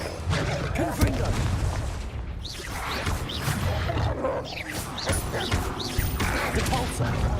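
Loud fiery spell blasts and crashing booms in the Hogwarts Legacy video game, repeated bursts over a dense battle din with voices calling out throughout.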